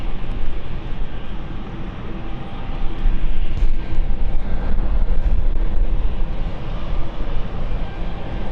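An aircraft departing London City Airport for Frankfurt makes a loud, rough broadband rumble that swells noticeably about a third of the way in and then holds steady and strong.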